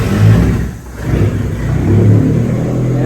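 Nissan Hardbody turbo truck with manual transmission driving onto a dynamometer, a loud close engine rising in revs, dipping briefly, then holding a steady throaty drone.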